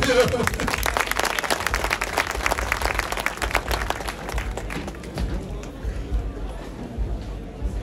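Applause at a motorsport gathering marking 50 years of an enduro race in Langeac, dense clapping from a crowd that thins toward the end, with a voice talking over it.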